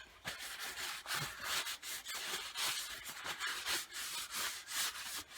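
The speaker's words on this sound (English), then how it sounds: "I've given it a couple of coats of mineral oil. And I'm going to give it one more now" A cloth rubs mineral oil onto a wooden billy club in quick, rhythmic back-and-forth strokes, close and soft with a dry scuffing texture, and nobody talks.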